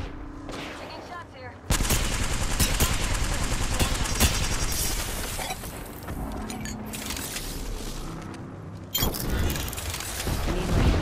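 Gunfire in the battle royale game Apex Legends: loud, rapid automatic bursts start after a quiet opening, roll on almost without a break, then flare again near the end along with other clattering combat noise.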